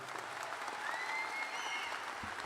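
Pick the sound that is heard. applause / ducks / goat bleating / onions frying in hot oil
applause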